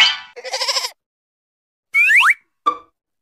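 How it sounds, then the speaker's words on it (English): A goat in a pen bleats in a garden, a couple of close, loud wavering calls with short gaps, ending with a brief plop-like sound. "goat in a goat pen."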